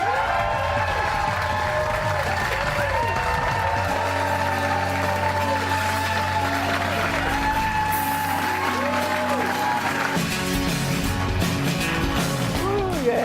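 Studio audience applause and cheering with whoops on a late-night television talk show, running under loud music throughout, with a voice briefly heard over it.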